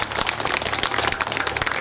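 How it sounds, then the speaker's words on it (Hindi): A crowd at the closing ceremony of a yagya gives a burst of hearty applause for the organiser, dense clapping that stays loud and steady throughout. "एक बार जोरदार ताली से इनका धन्यवाद देते हैं"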